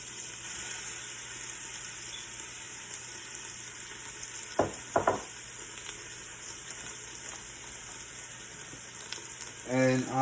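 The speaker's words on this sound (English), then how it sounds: "I'm going to just add my 1 cup of diced onions in." Diced onions frying in melted butter, a soft continuous sizzle with a few stirring knocks midway and a faint scrape at the end.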